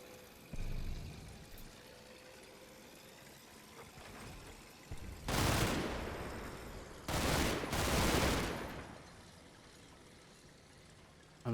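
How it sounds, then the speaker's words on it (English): Bursts of gunfire from the Combat Mission: Battle for Normandy war game at night, with two heavy volleys around the middle of the clip, a shorter crackle earlier, and a low rumbling background in between. "I'm not sure who's shooting at what there"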